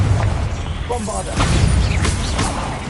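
Bombarda blasting spell in the video game Hogwarts Legacy, a loud booming burst with whooshing and crackling debris, close and dense, with voices underneath throughout.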